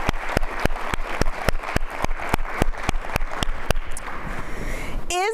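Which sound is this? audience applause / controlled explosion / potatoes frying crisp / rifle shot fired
audience applause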